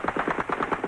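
Rapid bursts of automatic gunfire from Palestinian guerrillas aimed at Israeli tanks on a mountain road near Jazin, Lebanon, crackling in a quick rhythm of about eight shots under a second, fairly distant and muffled.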